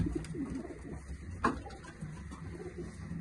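Pigeons, including tumbler pigeons, coo softly in low, murmuring calls against a quiet outdoor background, faint and somewhat distant, with no speech.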